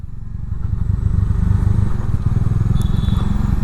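A motorcycle rides over a very rough, badly broken road on a hillside. A steady, close engine rumble runs throughout, with clatter and thuds from the jolting, and no talking.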